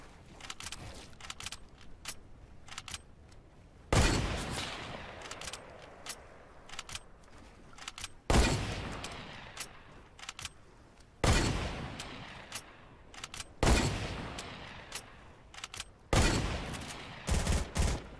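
Bursts of P90 gunfire in a Fortnite match, several loud volleys at intervals, each a short burst trailing off, with sparse clicks and small shots between them.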